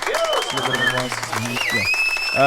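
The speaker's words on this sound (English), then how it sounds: "Can we add some applause right there?" Applause from a crowd sits under music on a live talk show, steady and moderately loud, with a voice and tonal melody over it.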